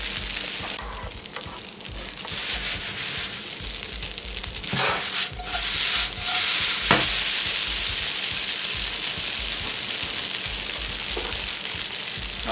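Spaetzle browning in butter in a pan give off a steady, close sizzle and frying crackle throughout, with a few scraping stirs as the noodles are spread out.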